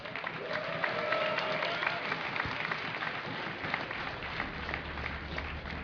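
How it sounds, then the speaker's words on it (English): A crowd at a DreamHack 2010 StarCraft II esports semifinal applauds and cheers steadily, a dense wash of clapping and voices that holds fairly level throughout. "If you would like Fenix to take this game, cheer for Fenix!"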